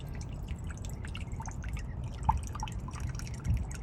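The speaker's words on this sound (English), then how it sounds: "taking some balsamic vinegar, adding a 1/4 cup of that as well" Balsamic vinegar poured into a measuring cup for a maple onion jam, a soft close trickle with small drips and splashes, quiet and without talk.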